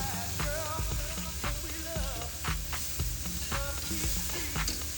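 Organic beef striploin steaks, thin fast-fry cuts for a BBQ, sizzle steadily in a hot pan, a dense close crackle running throughout with faint occasional pops and no talking.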